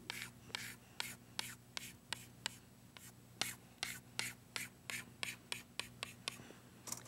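A marker scratches rhythmic back-and-forth strokes while coloring in a triangle on a classroom board, with about twenty crisp strokes at a fairly even pace that are close and faint, over a low room hum.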